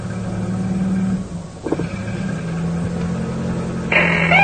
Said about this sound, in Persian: استارت زد، موتور روشن شد.